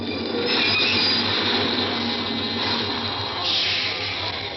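A 1940s subway train brakes to a stop, steel wheels squealing loudly over a heavy rumble of railcars, with high-pitched screeches rising and fading in waves, close and continuous.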